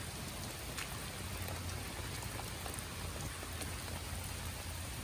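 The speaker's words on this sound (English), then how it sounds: "The rain is helping it grow." Steady rain falls on a farm with a pumpkin patch, a close, even patter of drops that hisses without pause.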